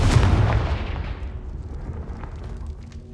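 A Confringo blasting spell in Hogwarts Legacy detonates with a loud, close boom, its rumbling blast tail fading steadily over about three seconds.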